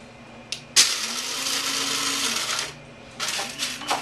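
Coffee beans dropped by the scoop into a roaster, a sharp rattling clatter followed by a long, bright rushing hiss for about two seconds, then another burst of rattling near the end, with no talking.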